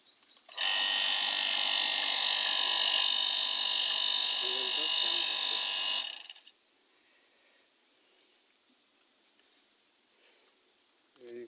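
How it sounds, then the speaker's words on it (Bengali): A water pump motor's loud, steady mechanical hum runs for several seconds, then cuts off, leaving quiet background noise with faint voices at the end. "এটা আওয়াজ মোটর চলার একটা আওয়াজ হবে"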